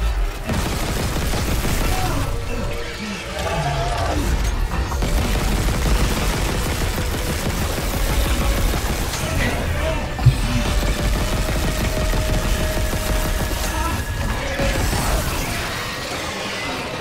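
Sustained gunfire rattles through a Dead Space video game cutscene, rapid overlapping shots mixed with heavy booms and crashes that keep going throughout.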